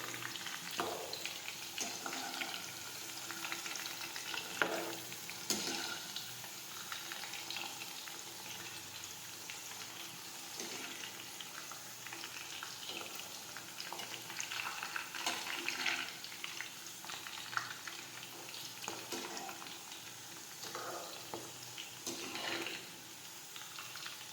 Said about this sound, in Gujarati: ભીંડો સડી જાય ત્યાં સુધી તળાવવા દેવાનો છે